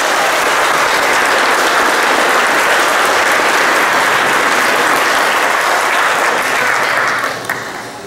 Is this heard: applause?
yes